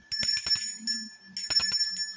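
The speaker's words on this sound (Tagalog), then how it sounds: "sorry kasi medyo hindi maganda yung bell natin ngayon" A bell rings repeatedly in quick bursts, tinny and slightly off-sounding, with a pause midway before more ringing, close and fairly steady.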